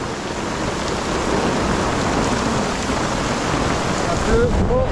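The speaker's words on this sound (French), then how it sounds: "Et voilà le premier orage." A thunderstorm with heavy rain in Gambia, steady dense rainfall hissing loudly throughout, with a brief voice near the end.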